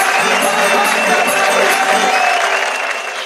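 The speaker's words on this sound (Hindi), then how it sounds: "जोरदार तालियों से स्वागत करें" A television comedy-stage audience gives a poet a loud, sustained round of applause as he is welcomed on stage, dense clapping and crowd noise close throughout, easing slightly at the end.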